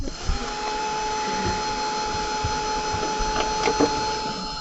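A heat tool blows steadily while drying a white wove watercolour card in a craft session, a continuous whirring drone held at an even level throughout with faint background noises.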